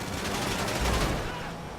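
Rapid machine gun fire from the Ocelot Ardent vehicle in a video game, a short dense burst of crackling shots at moderate level.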